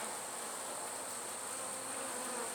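Honeybees buzz steadily during a beehive inspection, a faint, even drone from many insects that holds without a break and has no voices over it.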